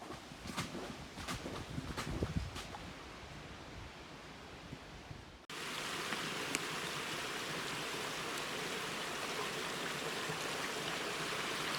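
A creek of red-tinted water flows across a hiking trail just past a boardwalk in Dolly Sods, heard as a steady continuous rush; quieter rustling footsteps come first, then the flowing water gets louder and closer.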